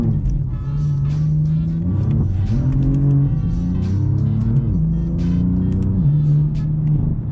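BMW M4 CS engine and mid-pipe exhaust heard from inside while driving, a steady loud drone that rises and falls in pitch through several gear changes with continuous revving.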